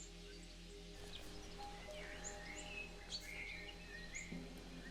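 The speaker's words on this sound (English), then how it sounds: "Maybe there's some birds," Small birds chirp and tweet in scattered short calls outdoors during a morning walk, faint over a steady low hum and soft background rustle.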